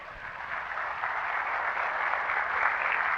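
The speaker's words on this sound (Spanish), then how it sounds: "Denle un aplauso al Señor entonces por esa verdad." A Spanish-speaking church congregation applauds in an even, continuous wash of clapping that is moderately faint and steady from start to finish, with no talk over it.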